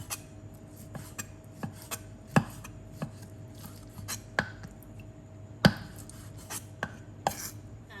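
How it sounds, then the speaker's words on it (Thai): A knife chops chicken skin on a board in sharp, uneven strikes, some louder than others, over a quiet low hum. "ส่วนหนังก็หั่นไปด้วยกันเลยค่ะ"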